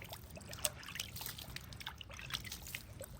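Water is splashed and trickled over newly planted tomato, cucumber and bell pepper seedlings, making faint, irregular dribbling and splattering close by.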